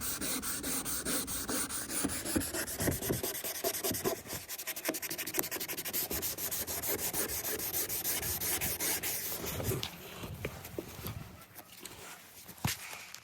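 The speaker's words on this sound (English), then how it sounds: "the last two steps of sandpaper are gonna be the fastest because you're not taking off corrosion, you're just refining that scratch" A Dodge Charger headlight lens is hand sanded with fine sandpaper during restoration. The sound is a close, rhythmic back-and-forth rasp of repeated strokes that continues steadily, then softens and turns sparser near the end.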